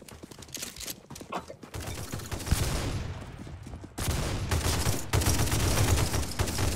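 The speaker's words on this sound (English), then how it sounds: "it's a light machine gun" A light machine gun in a prison-map video game fires sustained bursts of rapid, sharp shots that stay loud and close, broken by brief pauses before the firing resumes.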